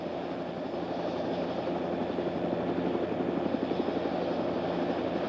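A Bell OH-58 helicopter's engine runs steadily before takeoff, a continuous loud turbine roar with a faint rhythmic rotor chop building toward the end, with no talk over it.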